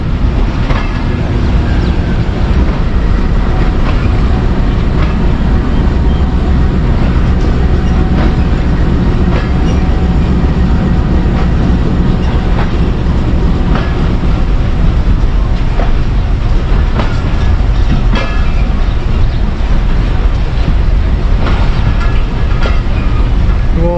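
Mianwali Express passenger train running from Lahore to Mianwali, a loud, steady rumble of wheels and carriages with rhythmic clickety-clack over the rails, continuous throughout.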